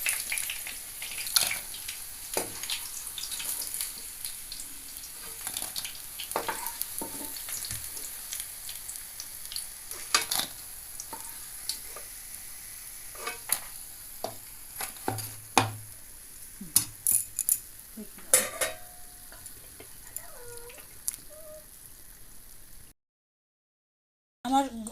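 Chicken pakoras crackle and sizzle as they finish deep frying in hot oil, with a steady bubbling hiss broken by sharp pops and scraping clicks near the end, then a short silence before a final clatter.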